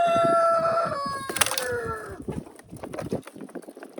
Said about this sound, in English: Come here, rooster.